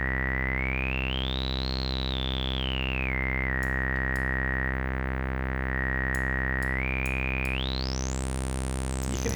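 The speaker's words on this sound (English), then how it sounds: "I start sweeping through the frequency curve now." A resonant filter on an Arturia SEM-V software synthesizer sweeps up and down over a steady harmonic drone, producing a loud, whistling tone that glides higher, dips, holds, then climbs again.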